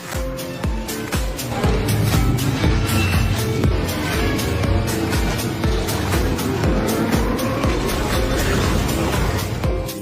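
Motorcycle engine roaring away in a Ghost Rider action film scene, a loud, continuous driving rumble layered with a dense music-and-effects soundtrack throughout.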